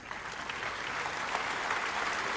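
Applause from an audience at a Nobel Prize series event at Punjab Agricultural University in Ludhiana, greeting a Nobel laureate; steady, dense clapping throughout with no one speaking.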